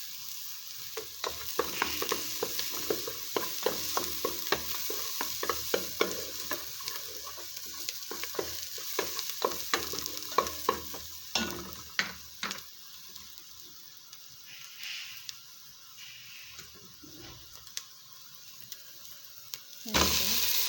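Chicken fries in a pan, sizzling steadily while a utensil stirs it with repeated clicking scrapes. The scraping is close and thins out toward the end, with no voices.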